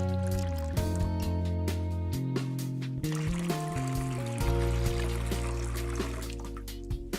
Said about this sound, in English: To start, thoroughly rinse out the water tank.